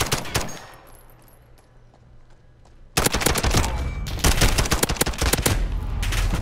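An M4A1 rifle firing semi-auto in the video game Modern Warfare: after a quieter lead-in with a few shots, a loud burst of rapid, closely spaced gunshots continues for several seconds.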